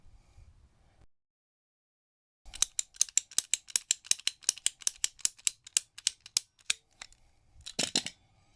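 Cutting tool sawing across a golf ball, a rapid run of about twenty sharp rasping strokes in steady rhythm after a quiet pause, ending in a short burst, close and clear with no speech.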